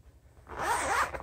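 Zipper on a Dot&Dot travel electronics organizer pulled open in a single quick, close zip lasting under a second, alone without talk.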